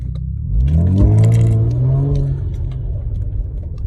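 Kia Stinger in sport mode pulling away at light, roughly 20% throttle: the engine note climbs smoothly through the revs, swells to a strong close rumble, then settles and fades as the car eases off.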